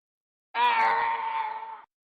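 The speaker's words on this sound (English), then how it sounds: "Yoda scream sound effects" A Yoda scream sound effect plays alone, a single strained, reedy wail about a second and a half long, loud and close with a slight fade at the end.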